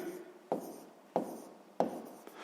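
Someone writes out a sixth-grade math calculation by hand. The faint, close scratches of pen on paper come as three distinct strokes, each starting with a sharp tap and trailing off in a soft rasp.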